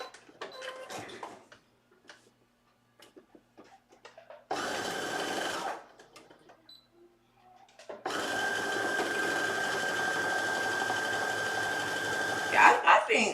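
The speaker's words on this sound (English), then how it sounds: "we're going to sew it together. And of course, serge it." A serger sewing machine stitches the center back seam of a shirt dress in two loud, steady whirring runs, a short burst and then a longer one, after quieter handling sounds.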